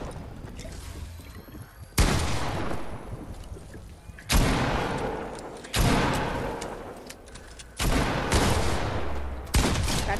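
Repeated gunfire in Fortnite, a rapid run of loud shots that recurs every couple of seconds, each burst fading with a tail of echo, while a player's voice talks faintly over it.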